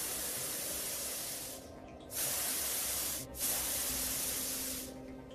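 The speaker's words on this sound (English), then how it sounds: "now I'm gonna get the hairspray out and spike it" A can of hairspray hisses in three close, loud bursts with short pauses between them, as hair is spiked stiff.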